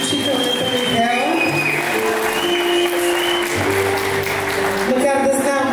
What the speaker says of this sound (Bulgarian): Отново да помоля за вашите силни аплодисменти за изключителната Михаела.